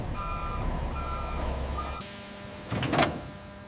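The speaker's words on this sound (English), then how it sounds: "Refrigerated distribution trucks arrive to take the patties to distribution centers." Refrigerated distribution trucks arriving at a meat plant loading area, faint repeating reversing beeps over a low idling engine rumble, then a brief louder mechanical whir near the end.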